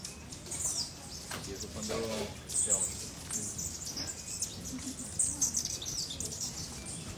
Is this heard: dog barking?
no